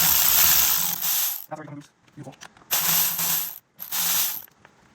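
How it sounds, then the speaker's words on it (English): A ratchet loosens bolts during a twin-disc competition clutch install on a Honda Civic Mugen Si, with bursts of close ratcheting broken by a quiet stretch of small metallic handling noises. "Crack it loose by hand and loosen it with the ratchet or whatever you got."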